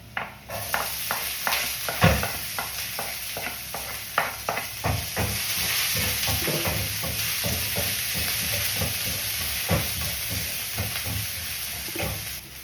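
Garlic and onion sizzle in a pan while a utensil scrapes and stirs, giving a run of rhythmic clacks over a steady frying hiss at close range.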